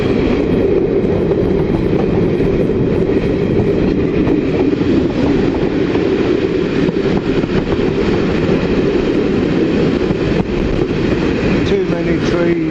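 Railway shunter locomotives and passing trains heard during a railtour: a loud, continuous rolling rumble with rattling undertones that holds steady throughout, with no clear break.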